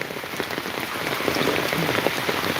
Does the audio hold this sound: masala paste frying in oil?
no